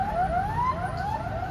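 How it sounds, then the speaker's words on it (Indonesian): An ambulance siren wails in rising sweeps, loud and steady over constant road noise, close by as the vehicle passes on the road between Serang and Bandung. "ternyata ada ambulan guys, maaf berisik"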